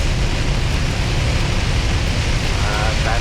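Heavy rain pounds steadily on a truck during a drive, a dense continuous roar with low road rumble underneath, loud and unbroken throughout.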